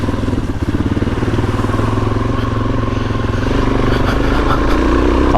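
A Suzuki DRZ400 dirt bike engine chugs steadily at low revs along a damp wooded OHV trail, a loud close thumping rumble that swells slightly toward the end.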